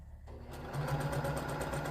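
A sewing machine stitches jelly roll quilt strips together. After a brief quiet start it settles into a steady, close, rapid mechanical whir with even rhythmic needle pulses.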